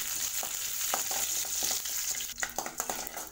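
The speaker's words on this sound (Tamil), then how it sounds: "கருவேப்பிலை பாருங்கள் எண்ணெய் நல்லா பொரிஞ்சுமே." Curry leaves splutter in hot oil with mustard seeds, urad dal and chana dal for a carrot potato fry, making a close continuous hiss dotted with quick crackling pops.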